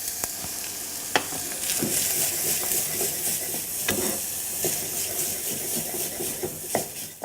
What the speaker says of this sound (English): what we're going to do with all our aromatics is actually fry this tomato paste